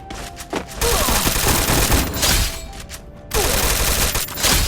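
Rapid bursts of gunfire ring out in the Free Fire battle royale game, with sniper shots among dense, loud volleys, two main barrages separated by a brief lull.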